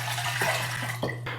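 Water is poured steadily into a vessel for a homemade pineapple beer, a close, continuous splashing flow with a couple of small gulping surges.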